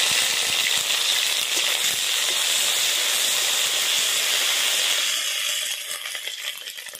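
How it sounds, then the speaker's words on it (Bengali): Nigella seeds and ginger paste dropped into hot white oil for a Bengali potol recipe, a loud, dense, hissing sizzle that holds steady and then eases slightly toward the end. "সাদা তেল গরম হয়ে গেছে। এবারে এর মধ্যে কালো জিরে দিয়ে দিলাম, অর্ধেক চামচ আদা বাটা"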